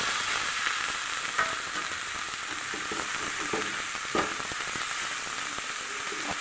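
Drumstick leaves stir-fry for a Kerala thoran, a steady loud sizzle with scraping stir strokes close up and no voices.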